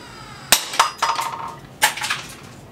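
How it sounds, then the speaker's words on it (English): A carbon-fiber PETG 3D-printed test sample takes sharp impacts and shatters, giving several loud, brittle cracks with glassy ringing and scattering fragments, up close and with no voices. "So that PETG sample completely shattered when it failed."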